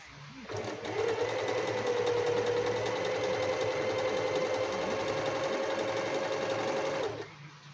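A Yokoyama sewing machine stitching steadily while skipping stitches on the left side, a fast even mechanical whir and rapid needle clatter running about six seconds before stopping, with no voices.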